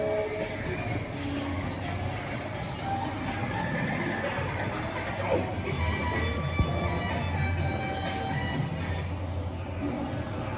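A small electronic toy train rolls along in a park with a steady mechanical rumble and faint rattling, with a high squeak now and then, continuous throughout.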